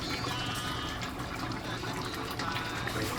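Water pours steadily into a small amount of Royco mchuzi stock powder to dissolve it while cooking a sun-dried tilapia stew, a continuous close splashing fill for about three seconds with no talking.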